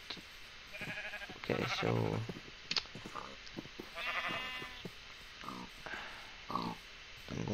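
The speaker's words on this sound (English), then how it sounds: "I'm going to kill this sheep." Sheep bleating in a survival video game, several short nasal bleats scattered over a few seconds, with someone talking between and over them.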